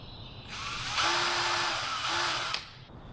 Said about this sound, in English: Now I just got to get some pilot holes for our screws here.